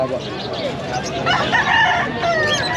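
Bantam chickens and other fowl cluck and crow in a noisy pet market, steady and close, with people chatting over the birds.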